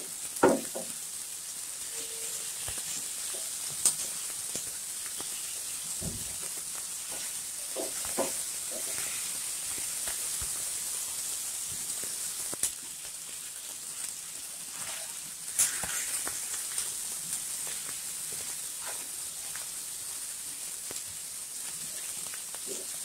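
Mashed potato fries in a pan for a potato bhorta, with a steady close sizzle and hiss and occasional sharp pops and spatula scrapes breaking through.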